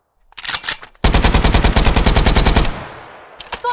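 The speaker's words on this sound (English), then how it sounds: "This AKM has a full magazine, and I'm putting every single round straight into you." An AKM rifle in a video game empties a full magazine, a few opening shots followed by a loud, rapid, unbroken burst of close automatic fire that cuts off abruptly, with a brief clatter after.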